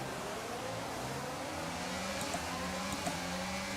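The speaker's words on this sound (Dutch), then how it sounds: "Dit is het geluid van de Renault motor." A Renault Formula 1 engine in the F1 22 racing game drones steadily at high revs, a continuous engine tone holding across the stretch with a couple of faint ticks near the end.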